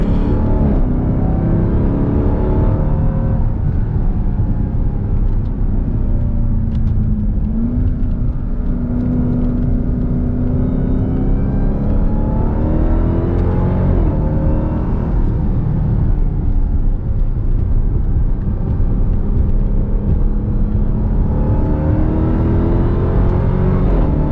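A 2021 Dodge Durango SRT Hellcat lapping the track at Road America, its engine droning loud and close throughout with rising and falling revs as it accelerates and shifts, no talking over it.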